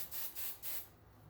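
Three short hissing bursts of spray from a can land on the material covering a model mountain for a model railway layout, each burst close and breathy and separated by brief pauses, then quiet.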